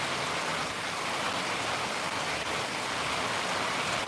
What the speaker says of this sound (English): That heavy thunderstorm band we were talking about.